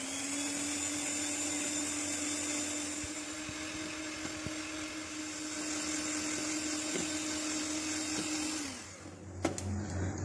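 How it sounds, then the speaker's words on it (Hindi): Electric mixer beating well-chilled cream for a mango dessert, a steady high whirring motor whine held for about nine seconds before switching off, followed by a brief clatter. "क्रीम जिसे बहुत अच्छी तरह से ठंडा कर लिया है इसको हम पहले बीट कर लेते हैं।"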